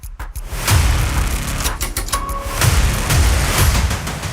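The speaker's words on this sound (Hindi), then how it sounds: "राजधानी में गोलियों के 9 राउंड।" Gunfire in Lucknow, rendered in a TV news report as deep booming thuds. Three heavy low booms stand out within a dense, rumbling mix, with no voices.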